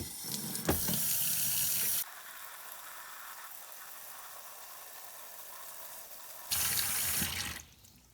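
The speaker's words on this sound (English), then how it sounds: "this is going to be just my standard degreasing and washing of parts inside and out" Motorcycle engine oil pump parts from a Shovelhead are rinsed under running tap water, with a loud hissing spray at the start and again near the end and a quieter steady trickle in between.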